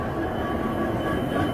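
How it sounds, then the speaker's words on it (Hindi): A WDP 4D diesel locomotive passes close by, its train cars giving a dense, steady rolling roar with a faint metallic whine. The sound lasts under two seconds. "क्या बात है, डीजल लोकोमोटिव"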